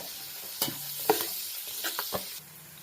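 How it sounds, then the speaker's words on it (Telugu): Chopped green chillies and turmeric sizzle and fry in hot oil while a spoon stirs and scrapes the pan in a few distinct strokes, close and fairly loud with no talking. "ఇవి మంచిగా ఫ్రై అవుతున్నాయి కదండి"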